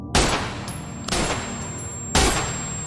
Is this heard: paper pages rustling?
no